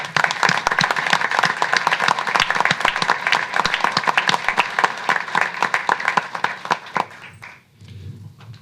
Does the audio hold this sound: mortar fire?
no